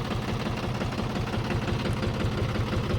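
A Mahindra Bhumiputra 275 DI tractor engine idles with a low, rhythmic diesel throb and a constant mechanical rumble, close and fairly loud, with no talking.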